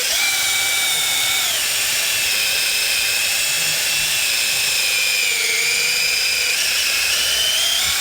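Power drill with a mixing attachment churns thick, gooey glue at the bottom of a tub during boat hull repainting, a loud, steady high-pitched whine that holds for several seconds with slight shifts in pitch.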